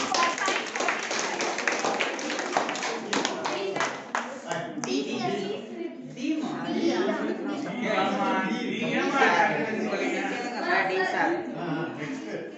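Classroom students clap together in a quick burst of dense, rhythmic hand claps, which fades into lively children's chatter and laughter that carries on for the rest of the stretch.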